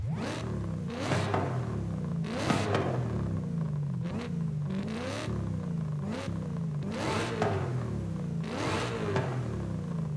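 A supercharged car engine in Forza Horizon 5 revs hard again and again, rising and falling in steady surges with a loud, throaty exhaust roar throughout.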